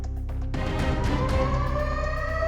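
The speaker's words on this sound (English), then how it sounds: "When the sirens began blaring at the Russian Black Sea Fleet Command Center in Sevastopol," Air raid sirens sound at the Russian Black Sea Fleet Command Center in Sevastopol, a loud, sustained wailing tone that climbs steadily in pitch, preceded by a brief stuttering pulse.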